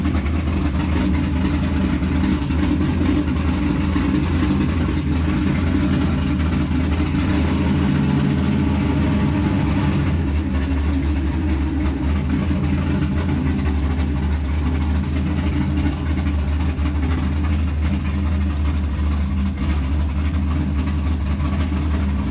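A Porsche race car's engine runs steadily on a dyno in a workshop, a loud, constant low rumble close by with slight shifts in tone throughout and no talking.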